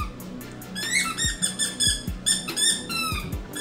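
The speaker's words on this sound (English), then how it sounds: "The bird's chirping." A pet bird chirps in a series of short, bright, repeated squeaky calls over a steady low background hum, fairly close, with no talking.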